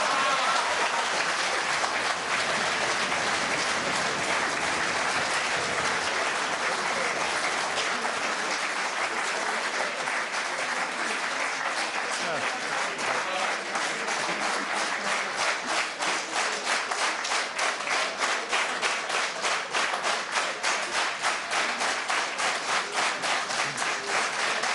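Sustained applause from a large audience at a music performance in Zoetermeer town hall, dense and steady throughout, growing slightly more rhythmic toward the end.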